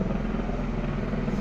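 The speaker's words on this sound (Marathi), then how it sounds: "हेलिकॉप्टर तर सारखेच येतात." A helicopter flies near the Kedarnath trek in the mountains, giving a steady, loud rotor and engine drone that holds evenly throughout with no talking.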